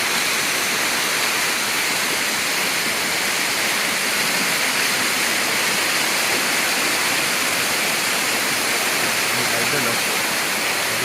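Kaparkan Terraces Falls in Abra, Philippines, a tiered waterfall with a moderate flow, pours in a steady, loud, broadband rush of water that stays constant throughout, with no other sounds standing out.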